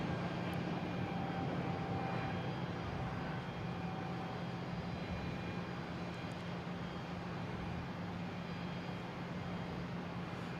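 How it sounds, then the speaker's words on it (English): A JetBlue Airbus A220 departing Boston Logan International Airport for Fort Myers produces a constant, fairly faint jet rumble with a low steady drone, unbroken and free of talk. "is it JetBlue heading to Fort Myers, A220"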